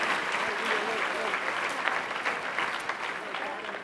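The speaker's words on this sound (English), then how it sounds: "Please give them another round of applause and thanks for all that they do." An audience applauds honorees at a Salute to Women in Leadership gala, a sustained close round of clapping from a large crowd that carries through the whole clip.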